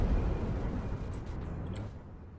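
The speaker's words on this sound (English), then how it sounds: "Did you guys hear that explosion?" A power plant explosion in the Roblox game ER:LC Liberty rumbles low and heavy, a loud boom that rolls off into a fading, dull roar with no one speaking.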